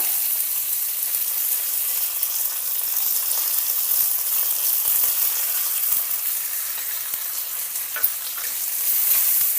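Steady, bright sizzling of chopped onions frying in tempering oil with curry leaves and turmeric, continuous and close, with occasional soft clicks and stirs.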